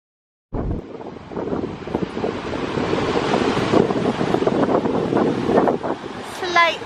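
Big ocean waves on Nacpan Beach under strong wind, a loud continuous roar of surf and buffeting wind noise on the microphone that begins suddenly and stays heavy throughout.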